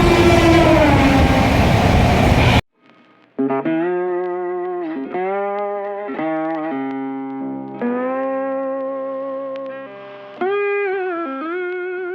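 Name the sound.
train running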